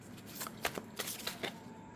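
Tarot cards being shuffled by hand, a few quick soft riffles and slaps close by, with no talking.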